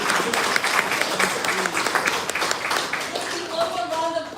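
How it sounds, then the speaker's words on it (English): Guests at a holiday reception give a lively round of applause, close and loud, with scattered clapping mixed with voices and crowd murmur throughout. "So ladies and gentlemen, please a round of applause for Faith, please."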